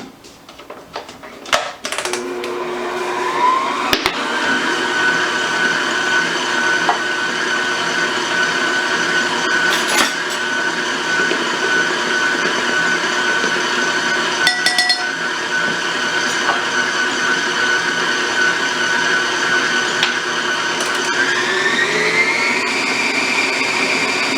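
Electric mixer beating icebox cookie dough with vanilla, a steady loud motor whine running continuously with occasional clinks of the beaters against the bowl and a shift in pitch near the end.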